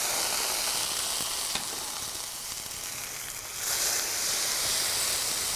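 Boiled gnocchi fry in a hot, noisy pan, giving a steady loud sizzle and hiss that holds throughout and swells briefly near the end, with no talking.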